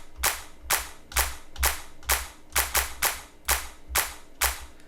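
Clap sample in an FL Studio dance beat, a crisp, loud electronic clap repeating about every half second in a steady, evenly spaced rhythm, heard alone.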